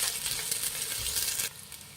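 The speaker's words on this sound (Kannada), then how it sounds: "ಇದು ಎಣ್ಣೆಲಿ ಚೆನ್ನಾಗಿ ಫ್ರೈ ಮಾಡಬೇಕು" Carrot, capsicum, green chilli and garlic frying in hot oil for hotel-style egg fried rice, a bright close sizzle with stirring that suddenly drops to a quieter hiss near the end.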